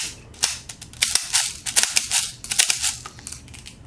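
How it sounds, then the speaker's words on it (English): Airsoft BBs drop into and roll down the feeding tube of a Mosin-Nagant 1891 replica rifle, making a rapid cluster of sharp metallic clicks and rattles that come close and fairly loud. "You can hear them rolling down towards the spot."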